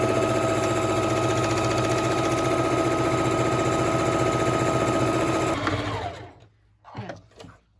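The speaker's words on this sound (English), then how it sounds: "Now we're going to go ahead and sew across the bottom of this just to lock that flap down." A sewing machine stitches across the bottom of a fabric mask, running in a loud, steady, rapid mechanical whir for several seconds before stopping abruptly, followed by faint handling sounds.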